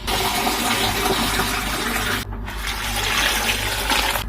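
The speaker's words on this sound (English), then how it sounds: "The trick here is to just add the water to cover your eggplants" Water from a tap gushing steadily into a bowl or pot to cover sliced eggplants, a loud continuous rush that breaks off briefly midway and then resumes, no talking.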